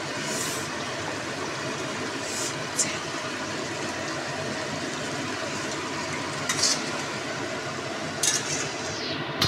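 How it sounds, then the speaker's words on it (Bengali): Stuffed pointed gourds (potol) are set into a simmering spiced gravy in a pan, giving a steady low bubbling sizzle throughout, with a few brief soft splashes and clinks as pieces go in. "বন্ধুরা এবার এই পটলগুলোকে একটা একটা করে পুরো ভরা পটলগুলোকে ছেড়ে দেবো"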